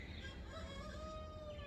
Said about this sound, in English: roosters are calling me because they're ready to get out in their outdoor run space